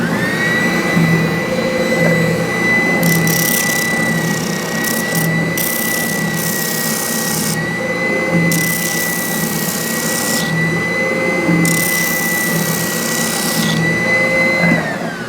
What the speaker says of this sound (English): when using this type of a sander, you want to be careful about lingering for too long in any one spot